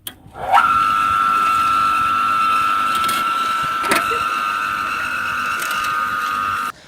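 A homemade electric cultivator with a 200 W motor from electric metal shears and a worm gear reducer starts up and runs with a loud, steady whine and mechanical grinding, then stops with a click.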